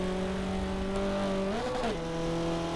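A race car engine in Forza Motorsport 7, running rough and sick at VIR, holds a steady drone, then its pitch wobbles and shifts mid-way before it settles again, with no talk over it.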